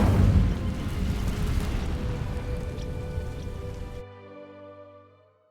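A burst of magical flame from the Incendio spell catches dry vines in Hogwarts Legacy, roaring and crackling loudly with a rushing whoosh before abruptly cutting off, leaving a fading tonal hum.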